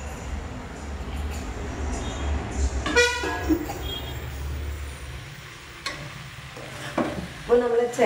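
Drumstick leaves hit a pan of elephant foot yam stir-fry and sizzle steadily, with spoon scrapes and clinks stirring through the hiss.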